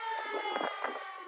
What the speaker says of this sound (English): air raid sirens wail.